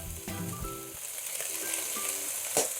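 Chicken fillets sizzling in a pan with curry, a steady close frying hiss with faint stirring clinks and scrapes, no talking.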